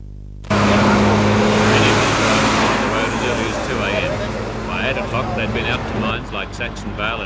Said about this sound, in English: Bumper-to-bumper convoy of trucks made the mission to lay the hour more at the Port Waratah facility